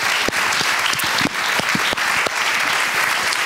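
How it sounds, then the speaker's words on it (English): A large audience at a panel event about European libraries breaks into loud, sustained applause, the close and dense clapping punctuated by a few sharper individual claps. "a big round of applause for all my guests and the publication"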